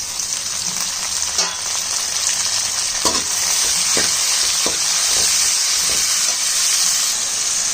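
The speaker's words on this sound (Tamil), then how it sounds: "வெங்காயம் தக்காளி நல்லா வதங்கிடுது" Onion and tomato sautéing in hot oil for an eggplant fish curry, a loud continuous sizzle with hiss close by, broken by several sharp scraping stirs of a spoon in the pan.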